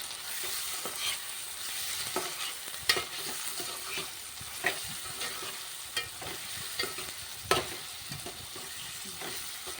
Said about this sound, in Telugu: కొంచెం అల్లం వెల్లుల్లి పేస్ట్ వేగనివ్వాలి.